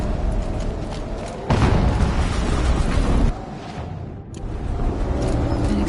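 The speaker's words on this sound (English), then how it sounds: "An explosion." A loud in-game explosion in Horizon Zero Dawn bursts into a dense, booming rumble that surges and then fades into a continuing roar.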